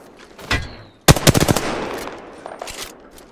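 Rapid automatic gunfire in Apex Legends, with a short opening shot and then a loud, fast burst of close rounds that fades into scattered distant shots and echo.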